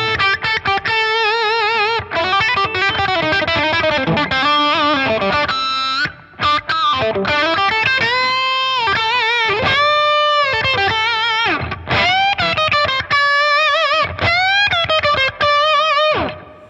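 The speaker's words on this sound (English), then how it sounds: "The blend's up, so you're hearing a lot of the compression effect." Loud, sustained electric guitar lead through the compressor of a Keeley Aria pedal, blend turned up, with a driven, compressed tone, long bends and held notes across several phrases, played alone without speech.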